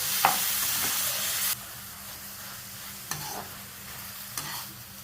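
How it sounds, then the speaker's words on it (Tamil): Peeled, cut ridge gourd and tomato sauté in a pan for kadayal with a steady sizzle that drops to a softer hiss partway through, broken by a few scattered stirring scrapes. "பீர்க்கங்காய் வதங்கிட்டு இருக்கு"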